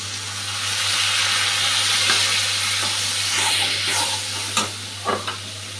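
Spice paste frying in a pan, a loud steady sizzle swelling and settling, with a few sharp spatula knocks and scrapes toward the end.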